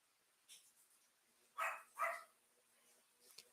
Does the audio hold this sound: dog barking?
yes